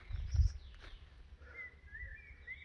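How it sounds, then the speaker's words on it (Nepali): Birds chirp in a pine forest high in the hills, with faint, thin whistled calls repeating in the second half over low rumbling wind and ambient noise. "अनि यो चराचुरुङ्गीको आवाज एकदमै मिठो क्या।"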